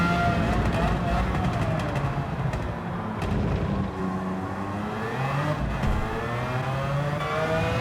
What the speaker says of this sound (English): Cars come streaming out the pit lane.